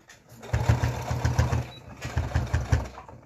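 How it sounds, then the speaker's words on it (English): A sewing machine stitches fabric in quick rhythmic bursts, close and fairly clear, pausing briefly midway before running on again. "I'm only stitching the side bit."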